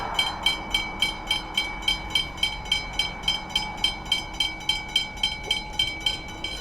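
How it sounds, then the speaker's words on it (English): A steam train chugs past a level crossing with steady, rhythmic chuffs, several per second, over a constant mechanical hum. It is fairly close and there is no talking. "I've actually got the steam train coming."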